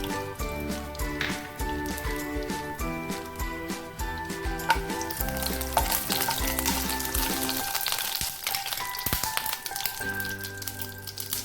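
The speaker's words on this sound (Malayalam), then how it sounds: "രണ്ട് മൂന്ന് സ്പൂൺ എണ്ണ ഒഴിക്കുക അതിലേക്ക് ഒരു ചെറിയ കഷ്ണം പട്ട രണ്ട് ഗ്രാമ്പു ഒരു ഏലക്ക ചേർത്ത് കൊടുക്കുക" Cinnamon, cloves and cardamom sizzling in two or three spoons of hot oil in a pan, a continuous crackling fry with scattered pops and a few utensil knocks, close and without talk.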